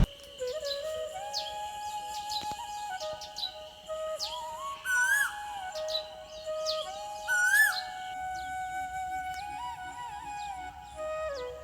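An Asian koel calls at a rural farmstead, its repeated rising whistled notes standing out clearly over quieter chirps from other birds and faint background hum.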